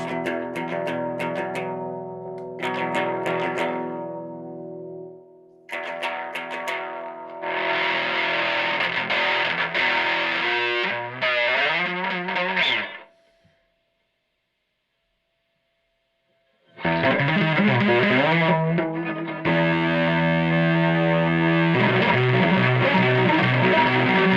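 A NeXT computer's distortion effect at minimum drive gives a fairly clean, slightly edgy tone, played as sustained chords and note bursts with a short silent gap midway.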